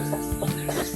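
A backyard hen with her chicks clucks in a steady series of short, close calls, roughly four evenly spaced clucks over a second against a constant low background hum.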